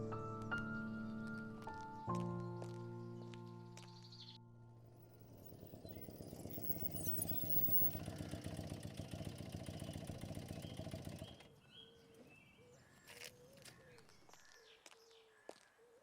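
A motorcycle engine starts up and idles in a loud, steady mid-pitched rumble for several seconds, then cuts off, with birds and faint ambient noise before and after.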